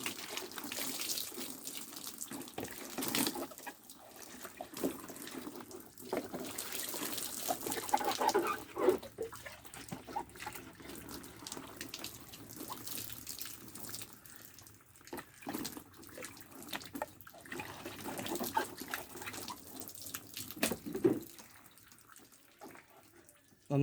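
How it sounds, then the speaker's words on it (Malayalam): Water is poured over a scooter to rinse it after scrubbing, producing an uneven, ongoing splash and trickle with repeated gushes across the whole stretch, moderately close and with no talk. "നന്നായിട്ട് സ്ക്രബ് ചെയ്ത് കഴിഞ്ഞാൽ നമ്മൾ വെള്ളം ഒഴിച്ചൊന്ന് കഴുകിയെടുക്കണം"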